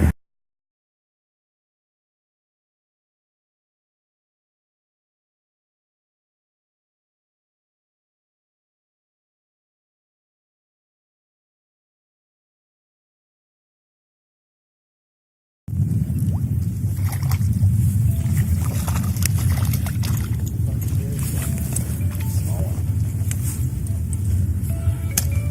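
Car driving toward a trout pond: a steady, close engine and road rumble with broadband rushing noise that starts abruptly after a long silence and holds at an even level to the end.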